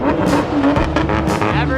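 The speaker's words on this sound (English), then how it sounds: "Everyone revving their engines." Several car engines, including a Lamborghini, rev loudly together at a car meet, their pitch rising and falling in overlapping surges, with no pause in the roar.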